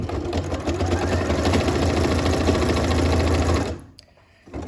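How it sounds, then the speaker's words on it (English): A sewing machine runs continuously, stitching a hood onto a hoodie with a 1 cm seam allowance. Its rapid, even needle chatter is close and steady, then stops abruptly near the end, leaving brief quiet before a faint resumption. "I'm just sewing on my 1 centimeter, and I'm approaching the second corner now."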